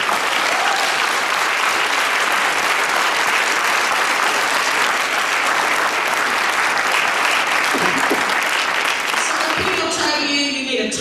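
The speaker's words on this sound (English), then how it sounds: "I want you to stand up and be applauded" A hall audience applauds book club members standing at a Michelle Alexander talk on mass incarceration. Sustained, full clapping rolls on evenly for several seconds, then thins near the end as a voice begins to come through.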